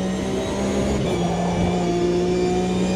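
Porsche Cup race car engine in a racing video game, a steady mid-pitched drone held at a fairly constant throttle with a slight dip and recovery partway through, loud and continuous with no talking.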